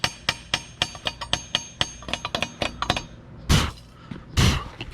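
Hammer blows on a freshly laid MIG weld during a first welding lesson, a quick run of sharp metallic strikes at an uneven rhythm, close and loud, ending with two heavier, longer clanks.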